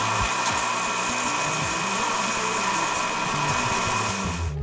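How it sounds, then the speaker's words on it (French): Dremel rotary tool rounding the edges of small wooden intarsia pieces, a loud continuous high whine with grinding chatter as the bit bites the wood, close and unbroken. "Je commence avec la Dremel. J'arrondis tous les côtés."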